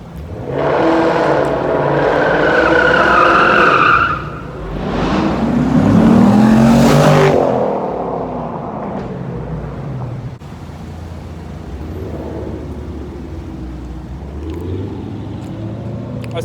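A Dodge SRT Hellcat revs hard and skids at a wild street car meet on Lower Wacker in the city, its engine rising and falling in loud surging roars, then fading into a lower rumble.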